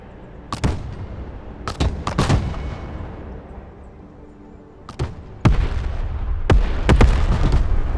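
An artillery fire strike in Broken Arrow, with a series of heavy, booming impacts landing at irregular intervals, some in quick pairs, each with a rumbling tail, growing denser toward the end.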